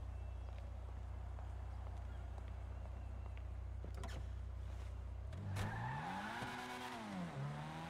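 A car engine in GTA Online starts up and idles steadily, then revs with rising and falling pitch close by, with faint background noise.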